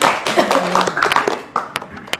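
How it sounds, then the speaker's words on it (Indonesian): Applause from the class audience at a Prie GS class session: brief, patchy clapping from a small group, a few scattered hand claps with a voice briefly mixed in. "Tepuk tangan."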